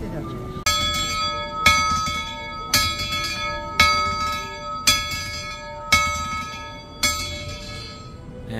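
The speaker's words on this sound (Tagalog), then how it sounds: "nagre-ring na yung bell" A bell at Tokyo Disneyland rings out about seven clear, resonant strikes, each roughly a second apart, loud and close, with each ring decaying before the next.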